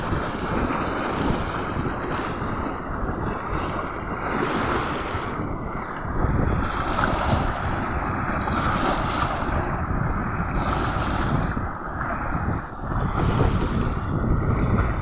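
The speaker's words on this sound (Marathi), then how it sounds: "हवा आहे भरपूर, त्यामुळे लाटा खूप मोठ्याल्या येत आहेत।" Strong wind buffets the microphone over a full dam reservoir as large waves surge and slap continuously, a loud, steady roar with gusty swells throughout and no voices.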